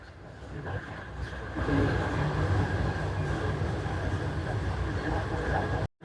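Shalimar Express passenger train of 13 coaches, including a power plant car, running between Lahore and Multan via Faisalabad: a steady, loud rumble and rattle of the moving carriages with a faint voice talking underneath, ending abruptly.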